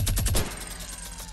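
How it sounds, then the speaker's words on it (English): Rapid minigun fire in Fortnite Battle Royale, a quick burst of shots in the first half second aimed at a tree, then a lingering rumble and fading echo with no talk. "Why is he shooting down the tree?"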